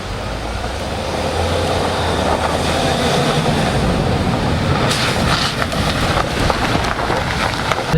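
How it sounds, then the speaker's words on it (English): A 2016 Nissan Navara NP300 EL Calibre 4x2 pickup with automatic transmission drives along, its engine and road noise forming a loud, steady rumble with a low drone early on and brighter tyre and wind hiss later. "Gonna drive this Navara on."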